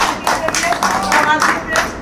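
A crowd claps in scattered applause at a Buddha Purnima event in Lucknow, moderately loud, with some voices mixed in.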